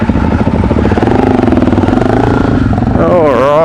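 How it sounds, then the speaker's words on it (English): KTM 500 EXC-F dirt bike engine running loud and close with a steady, throbbing clatter, then rising in pitch as it revs near the end, while people talk over it. "Barry didn't use the clutch to start it."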